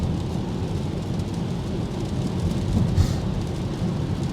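Heavy rain pours steadily on a city street with construction cones and puddles, a deep, low rumble underneath, a constant dense wash of sound without voices.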